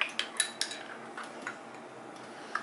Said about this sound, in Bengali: এক চামচ টমেটো পিউরি ভালো করে মিক্সড করে নিলাম।